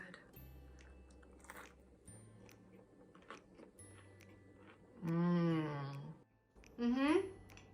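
Someone bites into ALDI cheesy garlic bread, with soft crunching and chewing close to the microphone, followed by two short bursts of voice.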